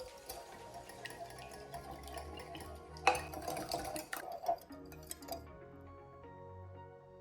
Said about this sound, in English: we're gonna whisk together our eggs and milk. And you wanna whisk this until it's really combined